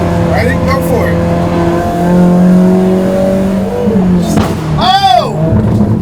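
Mazda Miata fitted with individual throttle bodies revving hard at high RPM while climbing a hill, a loud sustained engine wail with rising and falling pitch, then a sharp sweeping rev near the end, with people talking over it.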